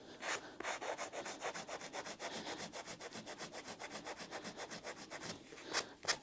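A rubber sandpaper-cleaning block is scrubbed back and forth across sandpaper in quick, even strokes, a close, raspy rhythmic scraping of around thirty passes with no voices.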